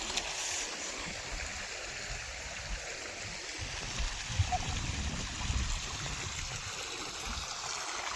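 Irrigation canal water flows steadily in a continuous broadband rush with a gentle gurgle, heard close and alone with no voices.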